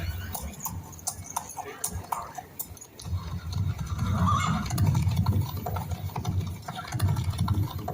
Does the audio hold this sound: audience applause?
no